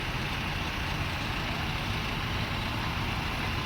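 Many buses idle together at a large bus gathering, a dense, steady low engine rumble with broadband noise, continuous and loud with no clear individual vehicles.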